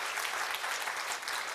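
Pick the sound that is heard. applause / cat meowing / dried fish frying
applause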